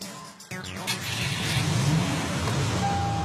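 A parked car's engine idles steadily after being started remotely by SMS, a continuous low running hum close by after a brief click and shift at the start, with no voices.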